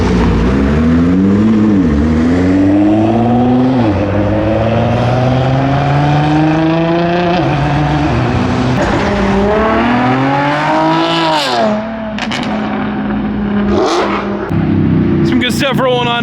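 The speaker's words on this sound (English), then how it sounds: "Here goes the R35 rolling out" Nissan R35 GT-R pulling out of a car meet, its engine revving up in repeated rising sweeps, loud and close, with people talking over it and other cars idling nearby.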